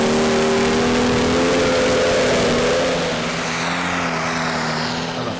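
A John Deere pro stock pulling tractor drags a 21.5-ton sledge at a tractor pulling championship in Aars, its engine a loud, steady, sustained roar with a slight easing of pitch and level partway through.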